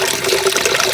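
Water trickling down from a small channel in the open air at evening, a steady close splashing flow with no talk.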